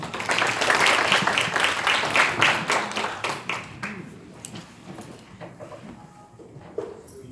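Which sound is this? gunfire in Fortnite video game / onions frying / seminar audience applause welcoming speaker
seminar audience applause welcoming speaker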